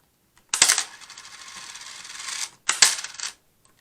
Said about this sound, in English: I'm going to go ahead and I'm going to insert these coins.